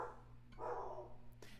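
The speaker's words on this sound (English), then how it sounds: "Sorry for the barking dog in the background." Faint, muffled barks from a dog somewhere in the background, a couple of short bursts over a low steady hum.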